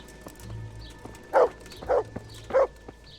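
A dog barks three times in Kingdom Come Deliverance, loud, close and evenly spaced about half a second apart, over quiet background game ambience.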